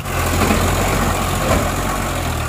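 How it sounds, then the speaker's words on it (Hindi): A tractor engine runs off-road along a rough village track, a loud, steady low rumble heard close up without a break. "अभी चला रहा हूँ मैं ट्रैक्टर"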